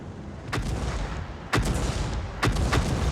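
Heavy SPG artillery fires in the tank game Frontline, three deep booming shots about a second apart over a constant low rumble of battle noise.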